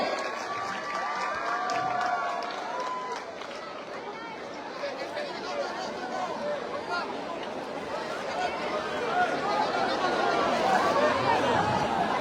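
A crowd at a puja pandal claps and cheers in sustained applause, with a babble of voices and an announcer's speech running through the steady roar.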